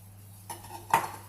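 A spoon stirring butter and vanilla powder into a mixture in a bowl, a couple of light clinks and scrapes against the dish, quiet and close.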